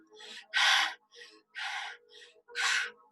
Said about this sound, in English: take really deep breaths and push them out quickly